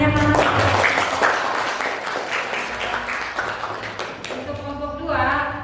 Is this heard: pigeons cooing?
no